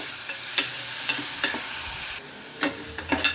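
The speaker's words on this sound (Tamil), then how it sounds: "இது நல்லா வதங்கட்டும்." Chicken sautéing over high heat in a pan, constant frying sizzle punctuated by repeated clacks and scrapes as a spatula stirs the pieces.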